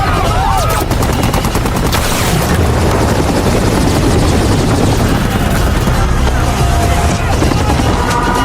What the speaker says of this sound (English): Just then, helicopters thunder overhead.